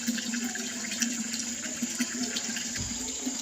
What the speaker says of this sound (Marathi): मोटर बंद पडली होती चालू केली आता पाणी भरून घेते